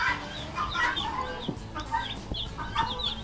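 Freedom Ranger chicks cheep in a brooder, with a cluster of high, thin peeps repeating near the listener throughout and a low background hum beneath them.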